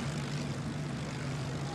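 A Spitfire propeller aircraft drones steadily in the background, a continuous distant engine hum that persists without pause, while no one speaks over it.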